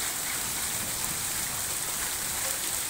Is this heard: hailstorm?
yes